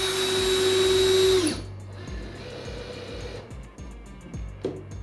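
A power drill drives fasteners down on a kayak, a loud close whine for about a second and a half that then cuts out, followed by quieter clicks and handling knocks.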